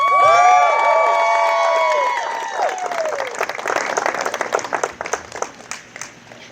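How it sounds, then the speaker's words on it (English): At a wedding reception, guests clap and cheer as the sister of the bride is called up to speak. A voice talks over the start, then dense applause with whoops and shouts swells and gradually thins into scattered claps. "so keep it going for Laura"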